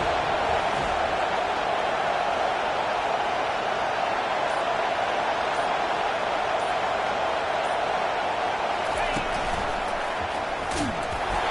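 A loud, steady roar of a stadium crowd during a fourth-down play in an American football game, a dense wall of noise holding level throughout with no talk over it.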